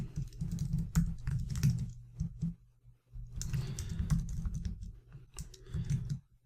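Fingers type steadily on a computer keyboard, tapping out a command-line permissions command with dense clusters of close key clicks, a brief pause near the middle, then a second run of typing. Nobody speaks.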